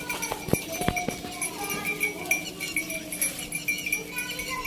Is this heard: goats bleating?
yes